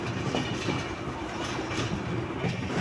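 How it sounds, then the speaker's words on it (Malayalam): A superfast express passenger train departs Aluva railway station, rolling along with a steady, dense rumble and faint rhythmic rail clatter, fairly close, with no voices. "നമ്മുടെ വണ്ടി ഇങ്ങനെ ആലുവ റെയിൽവേ സ്റ്റേഷനിൽ നിന്ന് പുറപ്പെട്ടു"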